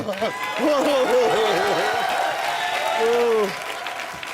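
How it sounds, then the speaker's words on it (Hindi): A Hindi comedy show studio audience bursts into loud, sustained applause and cheering for Ravi Kishan, steady clapping filling the room while a host's voice carries over it. "रवि किशन जी के लिए जोरदार तालियां हो जाए।"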